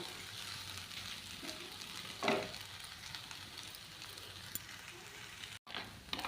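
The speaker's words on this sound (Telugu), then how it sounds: "సిమ్లో పెట్టి లో ఫ్లేమ్లో పెట్టి ఇలా తిప్పుకుంటూ ఉండాలి" Poha upma being stirred slowly in a pan over a low flame, giving a soft, steady sizzle with faint scraping, near and unbroken, with one brief louder scrape partway through and no talking.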